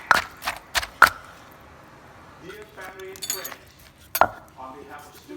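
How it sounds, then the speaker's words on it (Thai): Boiled eggplant and small round eggplant are pounded in a mortar for a salted bamboo shoot dish. A few sharp, hard knocks are spaced irregularly, with someone talking briefly between them. "เขือต้มมะเขือเปาะโขกนิดนึงโขกให้เคลื่อนเข้ากัน"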